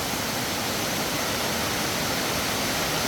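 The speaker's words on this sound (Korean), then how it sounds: "폭포가 쏟아지는 동굴은 처음 봤어요." Heavy rushing water roars steadily and loudly, a dense continuous wash with no pauses, from a strong waterfall pouring inside Stopića Cave in Serbia.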